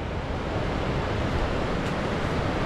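Surf rolling onto Ngalur beach in Tulungagung, a steady broad wash of breaking waves with some wind rumble, close and continuous, no voices.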